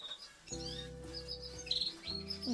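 Canaries chirp in a breeding room, with bright warbling calls and trills overlapping steady low hum, fairly close and continuous throughout.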